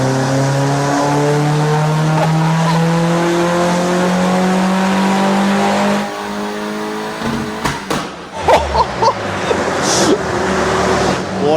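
A VW Fox GTI on a dyno roars at full power for about six seconds, its engine note rising steadily and loud, then backs off into lumpy, popping decel bursts and throttle blips.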